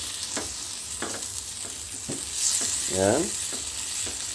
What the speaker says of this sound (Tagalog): Kunting halo.